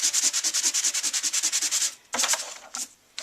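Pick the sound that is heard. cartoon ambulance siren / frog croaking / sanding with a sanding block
sanding with a sanding block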